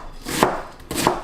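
Two crisp knife strokes slicing cabbage into strips on a cutting board at about half-second spacing, each a short broadband crunch with a brief lull between, close and clear with no voices.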